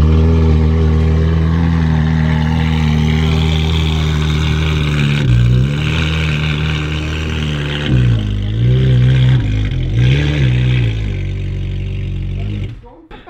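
A Ferrari 458 engine idles loudly with a deep, steady burble, then gives a couple of short revs as the car is pulled in, before cutting off abruptly at the end.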